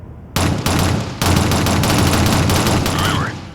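Rapid automatic gunfire in the Shadowrun video game, aimed at a troll: a short opening burst, a pause, then sustained loud rattling fire lasting several seconds up close, with a faint whistling tone near the end.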